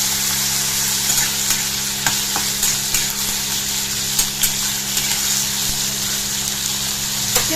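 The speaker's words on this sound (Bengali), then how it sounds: "দিয়ে ভালো করে নাড়াচাড়া করে নেব।" Carrots and peas for a winter sabji are stirred in a frying pan, the steady sizzle of frying underneath and a spoon scraping the pan in scattered taps, close and fairly loud with no voices.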